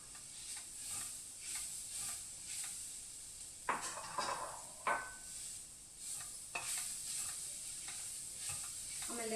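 Bhindi (okra) curry fries in a pan with a faint, constant sizzle while a utensil stirs it, scraping against the pan in several short strokes and a few louder knocks.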